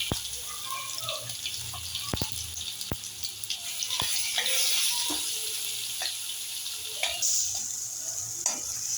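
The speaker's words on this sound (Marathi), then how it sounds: "थोडं मंद आचेवर परतून घ्यायचं." A cauliflower curry paste sizzling in a little hot oil in a kadhai over low heat, a soft steady hiss with occasional sharp clicks of a spoon stirring against the pan, close and fairly quiet.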